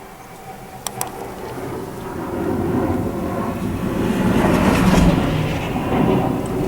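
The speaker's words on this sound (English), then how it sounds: "It's a really steep takeoff." Airplane climbing steeply on takeoff near an airport, a broad jet roar swelling from the start and holding loud and close for several seconds, with a couple of sharp clicks early on.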